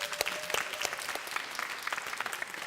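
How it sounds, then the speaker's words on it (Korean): Applause from a church youth group gathering for teachers: brisk, dense clapping from a room of people, fairly close and steady, with faint voices mixed in. "우리 수고한 선생님들에게 박수 한번 부탁합니다"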